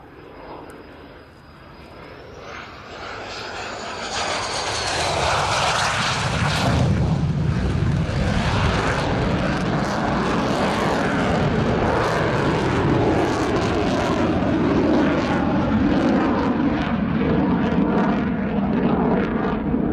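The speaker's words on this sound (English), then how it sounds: "this is for a low approach to go around." A Polish Air Force MiG-29A jet makes a low approach and go-around at an airshow, a loud, continuous engine roar that swells and holds steady throughout, with no voices.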